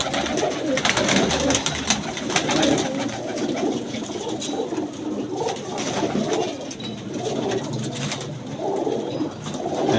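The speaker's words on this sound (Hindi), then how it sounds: "बहुत तिखी कबूतरी है" Pigeons coo steadily at close range amid a dense, continuous din of more birds, with rustling that fits wing flaps from a flock kept for high flying.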